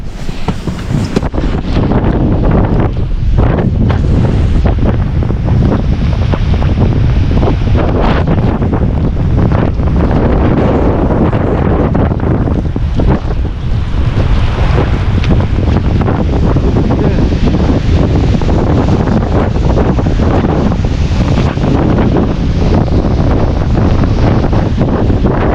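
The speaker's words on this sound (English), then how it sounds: "It's really windy here." Strong, relentless blizzard wind near Stevenson, Washington, with wind chill well below zero, roars and buffets the microphone for the whole stretch, a dense, loud rumble with no pauses.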